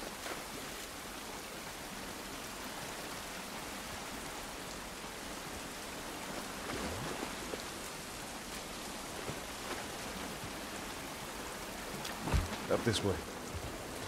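Steady rain falls outdoors in The Last of Us Part 1, a continuous hiss of drops that holds even throughout, with footsteps and brief game noises near the end and a voice speaking briefly over it.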